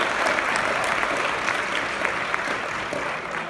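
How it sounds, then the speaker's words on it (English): An audience at a corporate team event gives a loud, dense round of applause with scattered sharper claps, sustained for a few seconds close to the listener. "Can I just hear a round of applause for our compliance team?"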